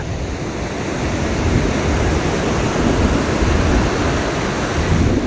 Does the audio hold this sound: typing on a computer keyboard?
no